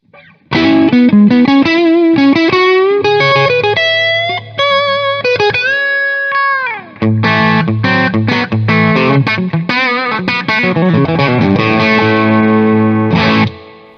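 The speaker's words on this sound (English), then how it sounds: "we can actually push this channel into pretty heavy distortion" Heavily distorted electric guitar playing chords and riffs through a solid-state amp channel pushed hard, loud and saturated, with a short pause midway.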